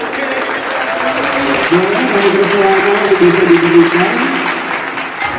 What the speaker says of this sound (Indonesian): Boleh saya minta tepuk tangannya dong?